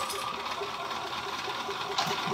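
Sewing machine stitching steadily in a straight line while making a zipped pouch, a continuous mid-level mechanical hum with a fast regular rhythm, close and alone.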